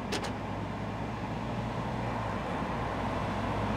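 Steady low road rumble of a Land Rover car driving on a first test drive, with a constant engine drone throughout and a couple of brief clicks near the start.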